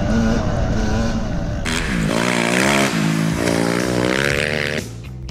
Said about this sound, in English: ride dirt bikes really fast through the desert